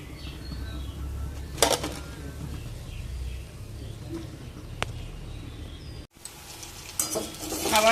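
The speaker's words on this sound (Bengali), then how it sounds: "এইভাবে সবগুলো ভেজে নেব।" Batches of flattened dough snacks fry in hot oil in a home kitchen, a soft continuous sizzle with a few sharp clinks of a spoon against the pan, close by.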